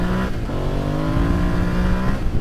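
A Yamaha Tenere 700 motorcycle engine drones loud and close as the bike goes by, its pitch shifting steadily, with no talk over it.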